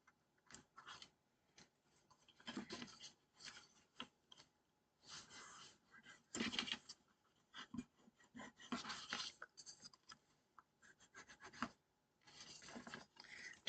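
Close, quiet bursts of paper being rubbed firmly to press tape down onto a greeting card, coming as intermittent scratchy strokes separated by short pauses.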